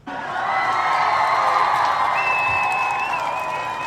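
Audience applause mixed with cheering and a few whoops, rising quickly and holding steady for a few seconds, fairly close and full, with no talking over it.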